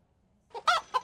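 Stream-redeemed chicken clucking effect: after a short quiet pause, three loud, close clucks come in quick succession, the middle one the strongest.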